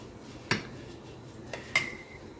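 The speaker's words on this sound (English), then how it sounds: "we don't tell David when Mama uses the metal tongs" Metal tongs handle chicken in a pan, giving a few sharp metallic clinks and taps, one around the middle and a louder ringing one near the end, over a quiet kitchen background.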